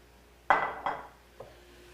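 Pre-cooked food with bell peppers stirred in a pan, a utensil knocking and scraping against the metal in two sharp close clanks followed by a fainter tap, with a quiet background and no talking.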